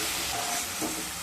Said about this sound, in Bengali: টমেটো, আদা আর লঙ্কা বাটা দিয়ে খুব ভালোভাবে কষিয়ে নেব।